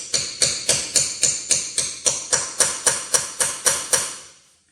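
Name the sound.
hammering a socket onto a swollen Ford lug nut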